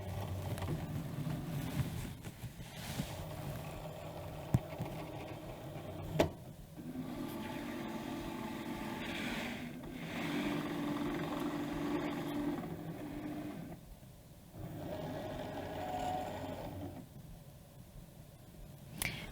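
Cricut machine cutting Infusible Ink sheet on a mat, a soft mechanical whirring and sliding hum with shifting carriage passes and a few small clicks, moderately quiet and with no talking.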